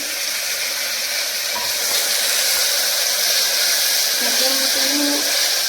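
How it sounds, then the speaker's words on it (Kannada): Chopped tomatoes tipped into onions frying in a pan, giving a loud, steady hiss and sizzle that holds throughout with no pauses. "ಈರುಳ್ಳಿ ಸ್ವಲ್ಪ ಫ್ರೈ ಆದಮೇಲೆ ಟೊಮೊಟೊ ಹೆಚ್ಚಿಟ್ಕೊಂಡಿದ್ದೀನಿ ನಾನು ಟೊಮೊಟೊ ಹಾಕ್ತಾ ಇದ್ದೀನಿ"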